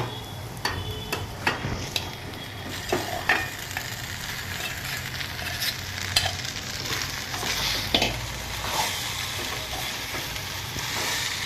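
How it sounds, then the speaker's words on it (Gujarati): Masala Maggi noodles are stirred in a frying pan over a steady sizzle. A spoon scrapes and taps the pan again and again in an uneven rhythm. "ચાલો, તો હવે અંદર આપણે મેગીને ઉમેરી દઈએ।"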